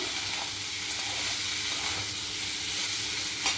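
Yam curry with grated coconut sizzles steadily in a pan as it is sautéed, a continuous close frying hiss with faint stirring scrapes and no talking.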